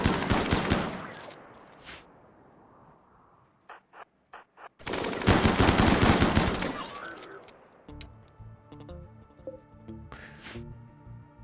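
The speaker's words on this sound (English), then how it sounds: "The mini shotgun deluge!" Rapid shotgun gunfire in the video game RimWorld: dense loud bursts of blasts, a brief pause with a few scattered shots, then another heavy volley followed by quieter clattering game effects.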